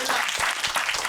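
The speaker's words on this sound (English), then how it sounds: "can we give a round of applause to our roundtable, Mr. Law, Sherry, Randy," A live audience at a symposium roundtable applauding the panel, dense continuous clapping that fills the whole moment, steady and fairly loud, with no talking over it.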